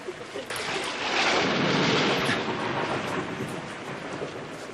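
A thunderstorm rumbles with one long, loud roll of thunder that swells and slowly fades, with rain noise beneath it.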